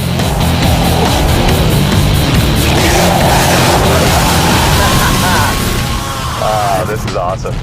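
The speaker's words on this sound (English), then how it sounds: "I can hear your exhaust through my earpiece." Dodge Challenger SRT8 (2012) exhaust rumbling steadily and loudly from close by during a test drive, a continuous broadband roar with wind noise, swelling slightly near the end.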